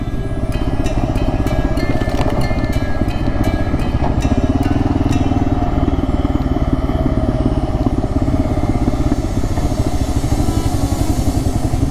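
A motorcycle charges along a dusty desert track near Nazca, Peru, its engine droning loud and steady at close range with a rough, throttled roar and rattling clatter throughout, no voices.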